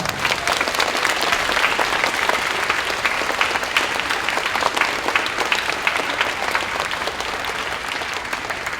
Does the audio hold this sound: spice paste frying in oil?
no